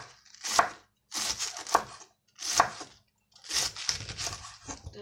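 A knife shredding cabbage on a board in four quick bursts of crisp, rapid chopping strokes, close and clear with short pauses between.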